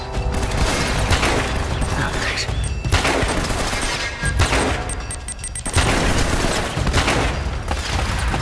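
A mounted gun fires in the Uncharted game, loud sustained bursts of automatic fire with booms and clanks packed densely together, nearly continuous throughout.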